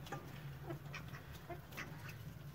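Several ducks quack in short, scattered bursts at close to middle distance, the calls overlapping irregularly over a low steady background hum, with no talking.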